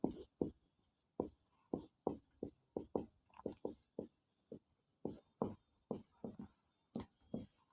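Chalk or a marker strokes across a board during a class 12 physics lecture, with sharp rhythmic taps and short scrapes arriving in quick clusters, close and distinct without talk.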